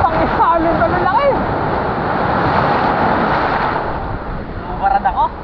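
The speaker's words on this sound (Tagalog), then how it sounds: "Laki ng alon eh. Pangit sa alon talaga laki." Big ocean waves around a small boat, a steady rushing wash of water and wind roaring close to the mic, while a few people chat and call out briefly over it.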